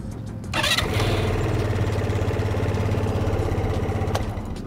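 A SYM Jet 14 scooter engine cranks and catches after a brief pause, then settles into a steady, close idle that runs to the end.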